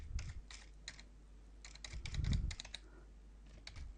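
Soft tapping of a computer keyboard as a password is typed, scattered single keystrokes and a quicker cluster in the middle, quiet and close with a faint low thump.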